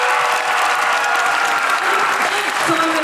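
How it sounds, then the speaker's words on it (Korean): Audience applause fills a hall at a Busan International Film Festival screening Q&A for the film Broker: dense, steady clapping from a large crowd, loud and sustained for the whole stretch. "네, 큰 박수 부탁드립니다."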